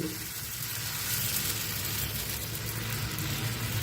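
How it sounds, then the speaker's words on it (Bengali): Thin batter spread across a lightly oiled pan for a quick thin flatbread, giving a steady, close sizzle that stays even and fills the whole stretch with no voices. "একটা প্যানের মধ্যে সামান্য একটু তেল দিয়ে ব্রাশ করে নিয়েছি এবার ব্যাটারটাকে একটু হাতা দিয়ে নাড়াচাড়া করে নিয়ে দিয়ে দিচ্ছি ব্যাটারটা ছড়িয়ে দিচ্ছি"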